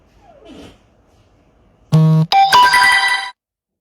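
A phone ringtone in a bedroom cuts in after a quiet stretch: a loud, bright electronic melody that plays for over a second, pauses briefly, then plays again. Near and alone, with no voices.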